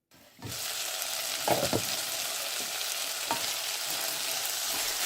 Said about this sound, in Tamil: மீண்டும் மூடியை திறந்து ஒரு முறை கிளறி விடவும்